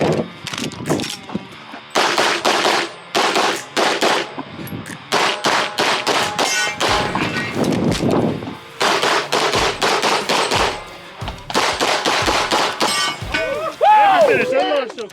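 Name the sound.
gunfire from Masterpiece Arms DS9 pistol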